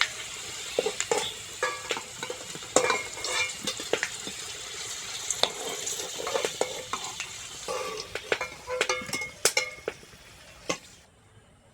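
Potatoes fried red-brown in ghee for chicken pulao crackle and sizzle in the pan, with scattered clinks and scrapes of a ladle as they are lifted out, fairly close and steady with no talk.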